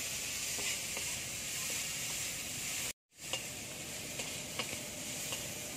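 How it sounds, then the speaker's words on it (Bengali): Long beans (barbati) frying in a pan, a soft continuous sizzle with faint crackles, briefly cut to silence midway before resuming, fairly quiet and without voices. "বরবটির একটু কাঁচা গন্ধ আছে, তাই আগে ভেজে নিচ্ছি।"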